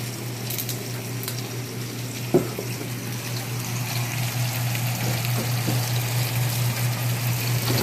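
Broth poured into a pot for pot roast, a steady close liquid rush and trickle running throughout, with a brief knock near the start.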